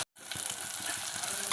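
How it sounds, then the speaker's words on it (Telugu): Masala spices sizzle and fry in a pan, a steady close crackling hiss with faint stirring clicks after a brief silent gap at the start. "ఇవి బాగా పచ్చివాసన పోయే వరకు వేపేసుకోవాలి"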